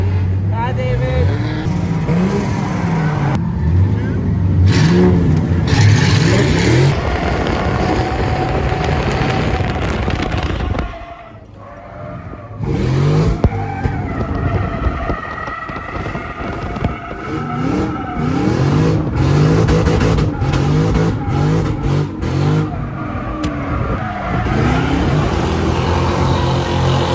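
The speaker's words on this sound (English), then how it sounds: "You get to drift under the lights, man." Drift cars at a night event under lights, engines revving hard and tires squealing through long slides, loud and close, with a brief lull midway and people talking over the roar.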